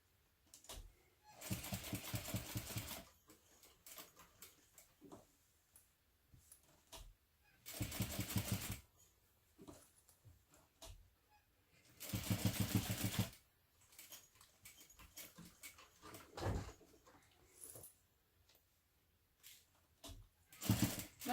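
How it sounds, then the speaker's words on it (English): A sewing machine stitches across a mini backpack seam and back again, with several loud buzzing bursts of two to three seconds each, separated by quiet pauses and small clicks. "Stitch all the way across, and then all the way back, and all the way back across."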